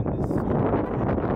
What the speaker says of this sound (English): It's mad windy outside